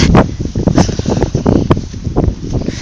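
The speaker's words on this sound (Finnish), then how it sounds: "Hyi kun tuulee." Cold, gusty wind outdoors buffets loudly in irregular rough bursts and rushes, with no talking heard.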